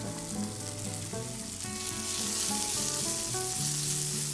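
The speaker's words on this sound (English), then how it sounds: "Fry the onion until it gets brown. Add chopped tomatoes, green chilies, and cilantro." Onion, chopped tomatoes, green chilies and cilantro fry in a pan for paneer tikka masala, a continuous close sizzle running under steady background music, with no speech.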